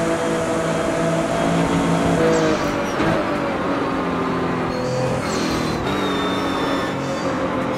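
A modified 800 hp four-wheel-drive Porsche 911 drives with a steady loud engine drone from inside the cabin, the pitch shifting with throttle changes and gear changes throughout.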